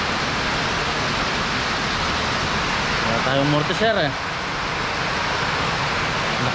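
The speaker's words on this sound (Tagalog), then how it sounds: "Lakas ng ulan." Heavy rain pours down steadily as a dense, loud hiss, with a person speaking briefly over the downpour.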